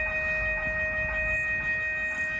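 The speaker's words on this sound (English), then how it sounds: "And here comes an MBTA commuter rail train to Boston." An MBTA commuter rail train bound for Boston pulls into the East Weymouth, Massachusetts station, heard as a steady loud rumble with sustained high whining tones and no voices.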